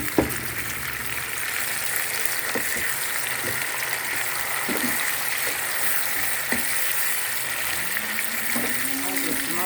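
Tomatoes frying in a pan for a vegetable egg sauce, a steady loud sizzle with faint clicks and scrapes throughout.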